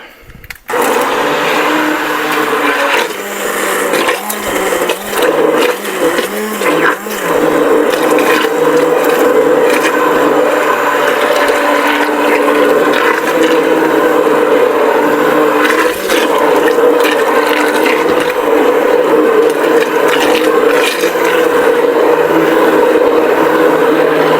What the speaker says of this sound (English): So let's blend it up with that